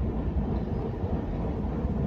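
A train passing nearby, a steady low rumble and roar that holds at the same loud level throughout, with no voices or other sounds on top.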